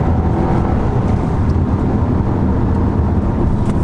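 A 2018 Volkswagen Tiguan SE 4Motion accelerates as its turbo comes on, a steady, loud engine and road roar heard from inside the cabin, continuous without a break.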